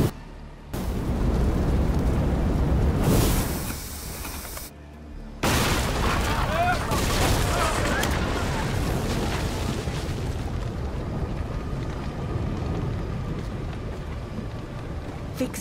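Cannon fire from a naval battle in Assassin's Creed Odyssey, heavy booming blasts rolling loudly through most of the stretch after a brief dropout, with crackling debris and commands shouted over the barrage.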